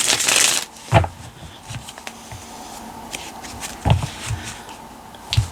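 Tarot cards shuffled by hand during a reading: a loud, dense riffle at the start, then scattered softer taps and slides of the deck, with no talking.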